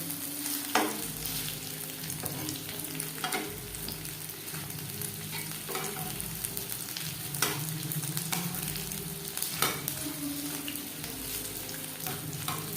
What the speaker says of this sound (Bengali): চিকেন ফ্রাই করব